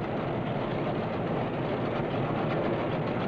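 A 1974 Standen sugar beet harvester works in a field, giving off a continuous, even mechanical rumble and rattle with no pauses or distinct strokes.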